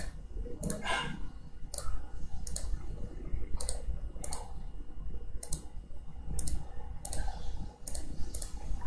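Mouse clicks while working in structural analysis software for a six-story building seismic model, about nine sharp evenly spaced clicks close to the microphone over a low background hum, with no talking.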